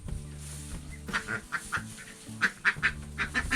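Male ducks quack outdoors on a farm in a quick series of nasal calls, fairly close and irregular, over a low background hum.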